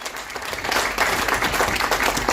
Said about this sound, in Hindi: इसके लिए सबसे पहले इनके लिए एक ताली बजाइए